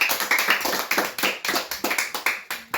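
A class of schoolchildren claps together in a lesson, a dense run of quick hand claps in bursts, fairly near and steady, with no talking over it.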